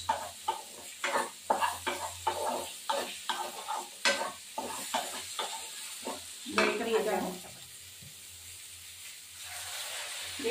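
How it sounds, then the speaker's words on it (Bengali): Potatoes sizzle and fry in a pan while being stirred, producing repeated scraping stir strokes over a steady hiss, for a Bengali dish of young jackfruit and potato with bata fish; the stirring stops and the sizzle continues alone. "এখানে উঠছে আলু, একটু ভাজা হচ্ছে"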